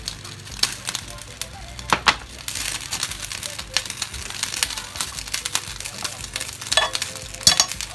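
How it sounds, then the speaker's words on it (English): Blended onion with garlic-ginger paste going into a hot pot for a Ghanaian chicken stew, giving a steady sizzle with scraping stirs and clinks, close and moderately loud, with faint talk in places. "I'm just going to pour the onion, the blended onion in here, and I'll be adding some of the garlic and ginger paste in here"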